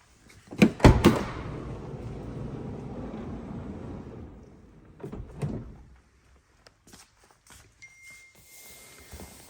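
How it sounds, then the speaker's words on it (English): The sliding side door of a 2020 Volkswagen T6.1 Caravelle van is pulled open with a sharp clunk and a rumbling slide, followed by a few lighter knocks and clicks. "Just open this side loading door."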